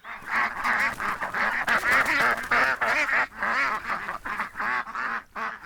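Many ducks in a duck yard quacking and honking in a busy, continuous chorus, loud and close, with overlapping calls and no talking.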